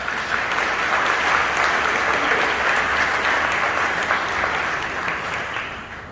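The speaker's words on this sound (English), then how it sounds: "So if you can give yourselves a round of applause." Sustained applause fills a room at an interior design awards gala, a dense, steady wash of many hands clapping at full strength for six seconds before easing slightly at the end.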